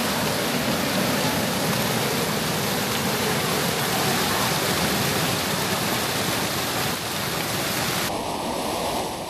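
Waterfall in a Costa Rican jungle hot spring, a steady dense roar of falling water heard close and loud throughout, with no voices.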